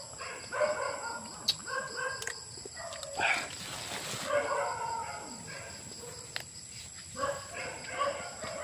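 Dogs bark intermittently at a distance at night in a rural Filipino setting, with a rooster crowing, faint murmured voices and steady insect-like background noise.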